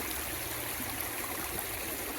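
Creek water at a gold prospecting spot, flowing steadily with a broad rushing wash, close and continuous throughout with no talking.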